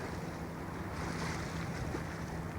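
Wind and waves around the 77,000-ton bulk carrier Yeoman Brook, inbound on the River Medway with a full cargo of Scottish stone, give a steady broadband rush with a low hum underneath and no one speaking.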